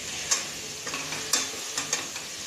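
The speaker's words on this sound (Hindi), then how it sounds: "अब हम इसे अच्छे से हिलाएंगे।" Bell pepper and mixed vegetables frying in a pan for veg biryani, a soft sizzle under several light scraping stir strokes spaced about half a second apart, close by and without talk.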